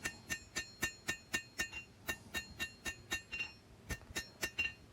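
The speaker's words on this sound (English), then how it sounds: "Now I'm just planishing hammer marks." A hammer planishing a forged knife blade with an integral bolster, striking in a quick, steady series of bright metallic clinks that ring close and loud, with no talk.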